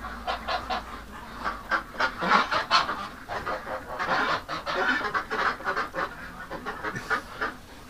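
A flock of domestic ducks honks and quacks loudly in an agitated, continuous chorus of overlapping calls, close by, with no talking.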